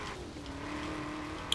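A TVR car racing around a corner in Forza Horizon 4, its engine a steady, fairly quiet drone with faint tire noise, ending in a short sharp click.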